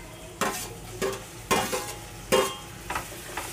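Cleaned clams tipped into hot spiced oil masala and stirred in a pan, giving a series of sharp scraping stirs with bursts of sizzling frying between them, close and moderately loud.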